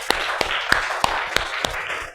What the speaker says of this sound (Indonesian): Kita berikan tepuk tangan untuk teman kita.